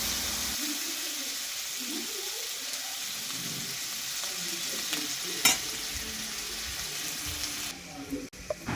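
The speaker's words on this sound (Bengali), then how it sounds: "এগুলোকে ভালো করে একদম ভেজে নিয়ে আমরা মিক্সিতে নিয়ে নেব" Garlic and sauce ingredients fry in a pan with a steady, close sizzle, a brief clatter of utensil near the middle and some handling noise toward the end.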